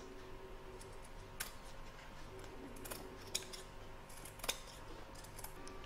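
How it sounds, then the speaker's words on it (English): Scissors snip along the edge of an in-the-hoop embroidered mandala placemat piece, giving quiet, close, irregular crisp cuts over a soft background hum. "You're now going to trim up along the edge there, ready to join it to the next piece."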